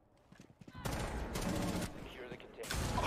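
Video game gunfire comes in quick, overlapping bursts of rapid shots, fairly faint, after a few softer clicks at the start.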